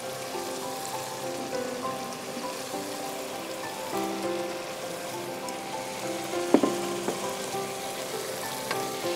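One kilogram of broiler chicken pieces hits a hot pot for chicken soup, giving a steady, close sizzle with a brief sharp crackle partway through.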